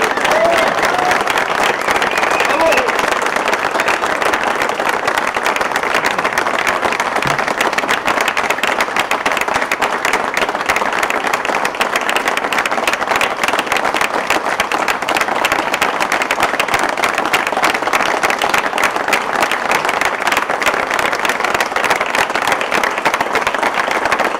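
Sustained applause for David at a Simon Bolivar Computer event, a dense, loud crowd of clapping hands that continues unbroken for about twenty-five seconds, with faint crowd noise underneath.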